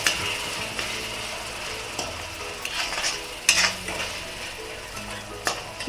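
Tomatoes with salt frying over medium flame in an iron kadhai, a soft steady sizzle broken by occasional sharp scrapes and clicks of a spatula against the metal, no voices.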